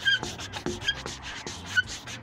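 Skateboard sliding on a skatepark ledge (curb) coated with anti-slip grip, giving a rough, gritty rasping scrape with a few harder knocks along the way, steady and fairly close, with no talking.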